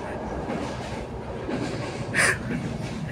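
A train on the trip to General Todorov runs on its rails, a steady close rumble and rattle with a brief squeal near the end; voices can be heard faintly.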